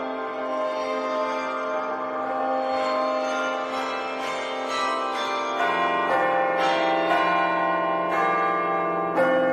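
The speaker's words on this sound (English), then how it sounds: "A marionette clock. I'm sure that's what that sound was." In an anime scene, a marionette clock chimes with sustained, resonant bell-like tones that ring loud and close, swelling and restriking several times with no talk over them.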